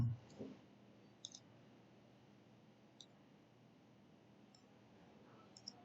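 Computer mouse clicks while a charcoal stove is modeled in 3D CAD software: a few faint, sharp single clicks, widely spaced over a quiet room hum.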